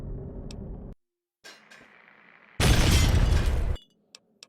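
Two loud explosions in Fallout 3, a brief burst at the start and a bigger, longer broadband blast midway through, separated by quieter rumbling and followed by a couple of faint clicks.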